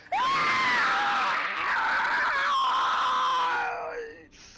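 A long, loud, wavering shriek from a Shoggoth being crushed by a boulder and flattened into a fissure, rising and sliding in pitch for several seconds before trailing off.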